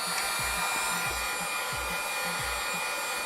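A hair dryer or heat gun blows steadily while heating a Galaxy Note 5 during disassembly for repair, a constant airy whoosh broken by faint low rhythmic scraping, with no speech.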